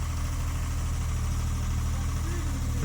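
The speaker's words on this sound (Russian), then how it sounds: "Трехцилиндровый дизельный мотор." An ISEKI TA317 Japanese snow-clearing tractor with a bucket idles on its three-cylinder diesel engine, a steady, even low rumble heard close up without a break.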